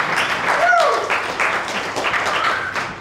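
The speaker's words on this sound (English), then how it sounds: "Let's give them a big round of applause." Audience applause at a web development bootcamp demo day in Melbourne: a steady wash of clapping from a sizable crowd, with a brief voice or whoop rising near the start.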